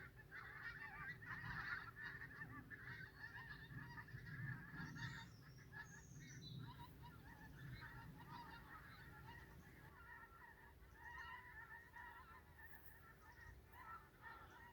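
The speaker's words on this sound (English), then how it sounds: "It's a fabulous sound, pink feet." Pink-footed geese calling in flight as skeins head north to roost, a continuous chorus of distant, faint honking and yelping that swells and fades.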